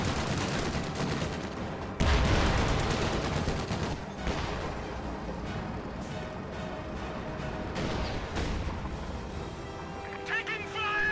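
Gunfire in a World War II video game battle with Shermans and paratroopers: loud bursts of shots and rattling fire, with a heavy blast near the start and scattered crashes and impacts throughout, dense and busy.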